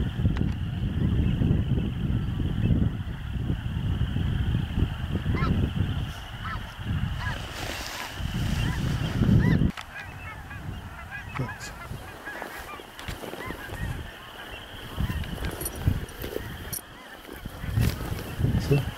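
Snow geese honking during an evening spring hunt, a dense, continuous chorus of many overlapping honks from a large flock, with occasional nearer calls and faint voices in the background.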